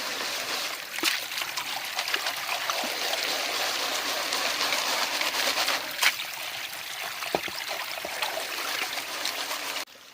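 Creek water swirls and trickles steadily in a gold pan dipped at a crevice, a continuous close rushing with a few small splashes and clicks.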